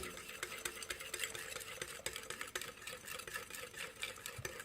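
Oil and egg mixture for homemade mayonnaise stirred in a bowl, with a steady, busy rhythm of quick scraping and clicking strokes running close and continuous throughout.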